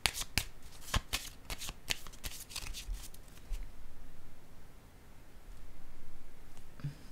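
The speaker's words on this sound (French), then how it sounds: "Je ressens le besoin de mélanger les cartes." A deck of tarot cards shuffled by hand, a quick run of crisp riffling and slapping bursts for about three seconds, followed by a quiet pause with faint handling.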